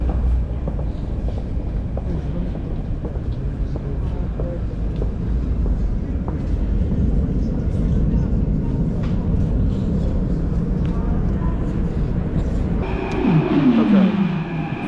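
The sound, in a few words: airport train in Athens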